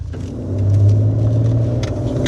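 A Maserati with a 3.0-litre engine and rear-wheel drive rumbles loudly and steadily from inside the car, a deep continuous drone with no talk over it.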